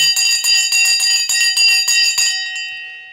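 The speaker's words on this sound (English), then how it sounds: "Let's ring the bell." A stock market closing bell rings in a rapid run of about nine loud, bright strikes, then stops and its metallic tone rings on and fades over the last second.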